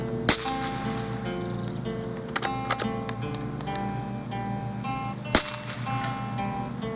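A Winchester Model 72A rifle fires with a sharp, loud crack near the start, then a few lighter clicks and knocks, and another sharp report a few seconds later, outdoors against a ringing tonal background.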